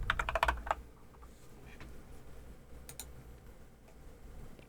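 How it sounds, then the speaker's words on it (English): Typing on a Cabbage Dog V3 Creamy Yellow Pro keyboard: a quick, close burst of clacking keystrokes at the start, then scattered lighter clicks over a low background hum. "I love my Cabbage Dog keyboard."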